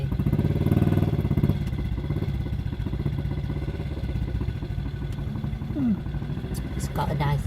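A Triumph motorcycle engine running nearby on a road, a steady low percolating thrum throughout, under continuous talking from people in a vehicle.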